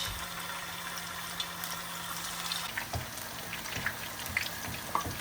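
Basa fish fillet frying in hot oil, a steady close hiss with scattered sharp crackles and pops that grow busier as it cooks, with no voices.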